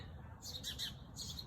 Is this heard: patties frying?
no